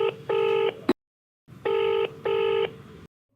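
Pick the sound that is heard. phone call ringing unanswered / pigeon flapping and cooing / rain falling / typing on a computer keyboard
phone call ringing unanswered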